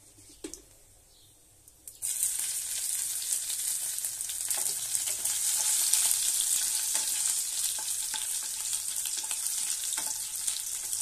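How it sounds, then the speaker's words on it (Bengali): Garlic hits hot oil already holding whole spices, cardamom, cloves, cinnamon and cumin, after a quiet start, bursting into a steady bright sizzle with occasional stirring scrapes throughout. "এবার আমরা এর মধ্যে রসুন দিয়ে দেব।"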